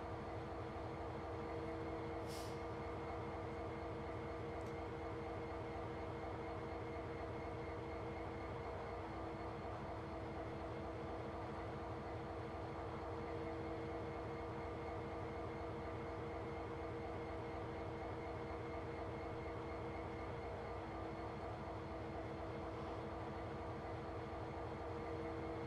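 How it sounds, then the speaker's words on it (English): A long freight train made up of a full rake of JHA hopper wagons in Train Simulator Classic, running near Whatley Quarry, gives off a steady, continuous rumble and drone that stays at an even level throughout with no voices. "It's a huge, huge train."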